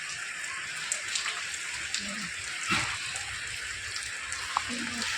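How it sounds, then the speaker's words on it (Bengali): Rain patters steadily in a soft, even hiss with scattered drops, fairly quiet, and a faint voice briefly audible underneath. "ঝড়ে বৃষ্টি শুরু হলো একটু ধরুক বৃষ্টিটা নামছে"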